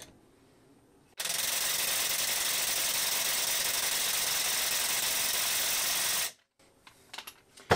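An impact wrench driving a nut through a weighted impact socket adapter, a loud, close, continuous rattling hammer burst lasting about five seconds, with quiet handling noise before and after.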